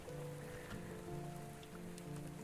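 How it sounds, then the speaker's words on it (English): Steady rain in the video game Eternum patters continuously and evenly on surfaces, quiet and unbroken, with faint tonal music lines beneath and no voices. "I've never been happy to see Credence rain"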